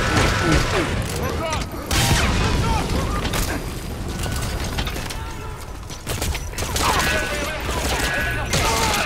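Cover-fire gunshots in Metal Gear Solid V: The Phantom Pain, a dense, continuous volley of shots and booms sustained for the whole stretch, loud and layered with mechanical clatter, dipping briefly once or twice before resuming.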